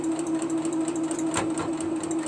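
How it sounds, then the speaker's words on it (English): Sewing machine stitching down a piece of a double wedding band quilt, a loud, steady whirring hum with rapid needle ticking running throughout. "Let me see if I can't just give it a sew down and make that one even."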